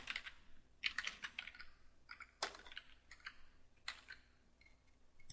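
A file name is typed on a computer keyboard in quick, close bursts of key clicks separated by short pauses, with no talking.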